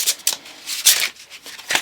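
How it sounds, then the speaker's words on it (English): A deck of tarot cards is shuffled by hand in several quick riffling bursts separated by short pauses, close and fairly soft, with no voices. "It's me just shuffling the entire deck."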